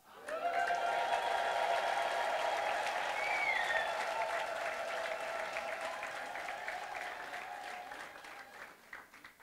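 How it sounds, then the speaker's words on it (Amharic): A church congregation ululates and claps in praise, high trilling voices sustained over steady crowd applause that swells, holds and slowly fades away. "እልልታ ለጌታ።"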